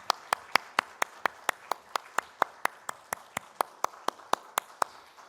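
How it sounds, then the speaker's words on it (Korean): A church congregation at a Sunday service claps in a steady, even rhythm, about twenty sharp claps at a moderate tempo, close and clear. "하나님께 영광의 박수 올려드리겠습니다"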